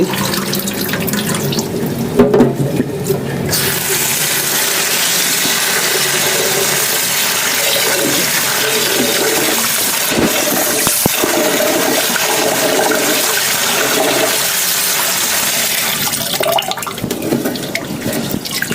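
Water running steadily from a tap as rice is rinsed for a rice cooker, a continuous close splashing rush with small clinks and shifts, no voices.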